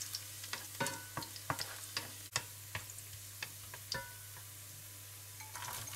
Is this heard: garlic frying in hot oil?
yes